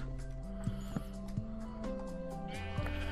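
Sheep bleating in the Minecraft video game, several short wavering bleats in quick succession at varying pitches, clear and close over a quiet background.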